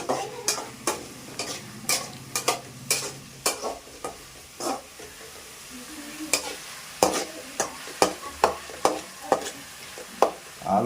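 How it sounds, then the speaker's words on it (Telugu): Ginger paste frying in a pan for a festive crab curry, stirred in a steady rhythm of repeated scraping strokes over a continuous soft sizzle, close and clear with no talking. "ఈ అల్లం పేస్ట్ అంతా బాగా మగ్గనియాలి"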